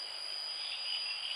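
Crickets chirping in a forest at night, a continuous high, shrill trill that is steady and fairly faint, with no other sounds or voices.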